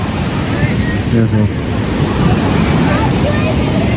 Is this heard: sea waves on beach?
yes